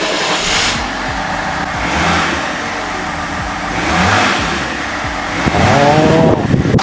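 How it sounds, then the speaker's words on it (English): A high-mileage BMW E38 engine idles and is revved in several rising and falling swells, loud and close, with coolant cap loosened during testing. "So I'm going to start up the engine, give it some revs and retest."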